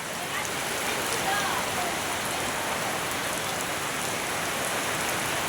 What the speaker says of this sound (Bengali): হঠাৎ দেহ কত বৃষ্টি নামছে